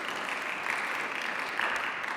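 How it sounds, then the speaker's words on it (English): An audience applauds at a poetry reading, giving a steady wash of clapping hands that holds at an even level throughout. "but we can clap"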